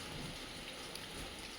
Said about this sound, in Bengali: আজকেও কিন্তু বৃষ্টি পড়ছে